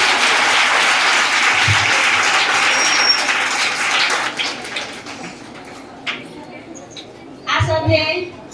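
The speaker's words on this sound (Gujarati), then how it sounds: "આપણે સૌ જોરદાર તાળીઓથી એમને વધાવી લઈએ." Loud, dense applause greets guests taking the stage at a school farewell ceremony for the principal. It lasts about four seconds, then thins into scattered claps and voices, with one more brief burst near the end.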